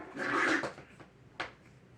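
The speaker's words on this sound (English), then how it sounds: "little dog" A small dog gives one short, close bark, then a fainter second yap follows after a pause, set against a quiet background.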